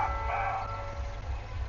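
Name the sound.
car alarm playing an 'I am Batman' sound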